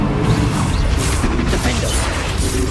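Spell blasts from Confringo and Bombarda in Hogwarts Legacy crash and thud in quick succession, a loud, busy barrage of impacts and bursts with no clear pauses between them.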